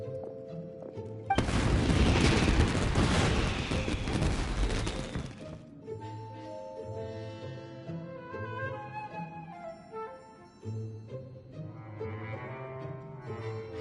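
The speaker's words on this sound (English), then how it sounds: "Yoimiya, this is turning into a bit of a fireworks display." Fireworks in Genshin Impact erupt in a dense, loud burst of crackling booms lasting several seconds, then give way to quieter game music with faint scattered pops.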